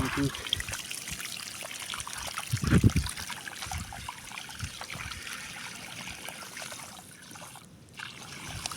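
Water trickles out of a leaking pipe joint on a village farm, a continuous thin outdoor dribble with a brief louder splash partway through, while voices talk faintly in the background.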